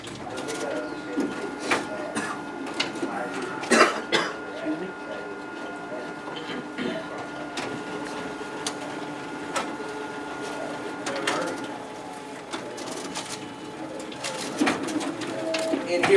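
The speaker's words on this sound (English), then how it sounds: "Okay, there we have our document feeder in action." A Xerox WorkCentre 7435 copier runs its document feeder, pulling originals through with a whirring mechanism and a series of sharp clunks and clicks at irregular intervals. Bird coos are faintly audible in the background.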